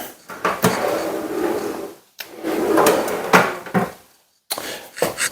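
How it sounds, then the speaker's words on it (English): Wooden pull-out drawers on a custom-built laundry pedestal slide open and shut several times, each run a rumbling glide ending in a solid knock, heard up close with brief silences between. "got the pull-out drawers"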